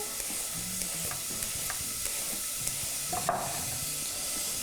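Onion and garlic sizzle in a pan for a spaghetti tomato sauce. A steady, soft frying hiss is broken by occasional small crackles and a brief louder burst of steam near the end.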